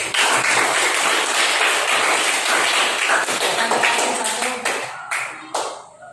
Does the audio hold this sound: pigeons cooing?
no